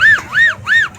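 A person's voice imitates an ambulance siren, producing three loud, close rising-and-falling wails in steady rhythm with no other talk.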